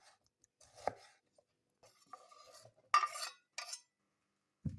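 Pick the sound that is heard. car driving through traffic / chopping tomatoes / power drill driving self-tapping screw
chopping tomatoes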